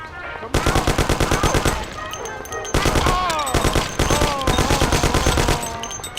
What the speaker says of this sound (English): There's shooting here.